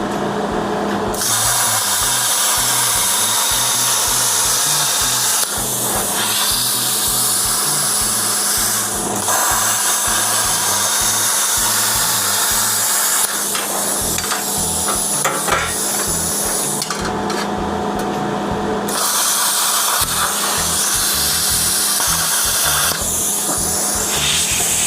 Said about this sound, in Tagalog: So, si Predator Plasma Slasher or Plasma Cutter, kaya niyang pumutol ng bakal hanggang sa 20 mm